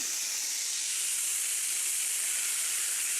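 Whiskey and cream hit a hot steak pan, giving a loud, steady hiss and sizzle that holds evenly throughout with no talk.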